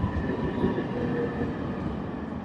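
A special inspection train rumbles steadily past near the Chenab Rail Bridge, a continuous low roar of rail cars rolling along the track with no voices.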